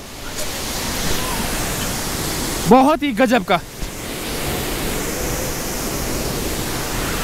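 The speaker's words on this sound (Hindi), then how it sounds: "प्राकृतिक रूप से बना हुआ झरना," Kanchenjunga Waterfall, a natural falls in West Sikkim, pours as a constant hissing roar from start to finish, with someone speaking briefly over it.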